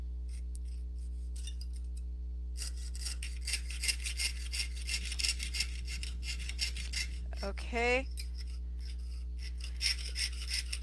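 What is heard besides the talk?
hand saw blade sawing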